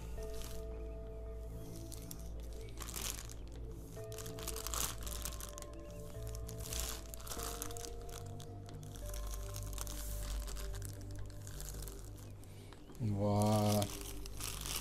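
Plastic and cardboard packaging of a Banpresto World Figure Colosseum Goku figure being opened, crinkling and rustling near the microphone, ending in a louder crackling burst, while someone talks throughout.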